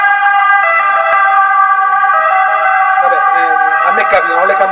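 An emergency vehicle siren wails loudly outdoors in Gravina di Catania, a continuous rising and falling tone passing close by, with voices briefly audible toward the end.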